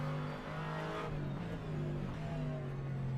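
GT3 race cars, a McLaren among them, roar through a sim race at Zandvoort, one loud engine note holding steady with slight pitch swings and a second car's tone layered beneath it.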